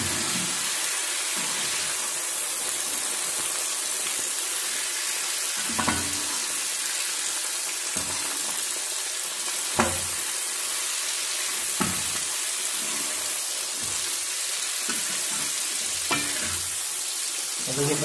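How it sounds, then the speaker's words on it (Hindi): Potato and cauliflower pieces fry in oil with a dense, continuous sizzle, broken now and then by the clink of a spoon stirring the pan. "देखिए फ्रेंड्स, आलू और फूलगोभी दोनों को हमने अच्छे से फ्राई कर दिया है।"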